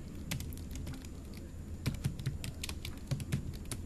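Keys clatter on a computer keyboard in a run of quick, uneven taps with a few brief bursts, close but fairly soft over a low background hum and no speech.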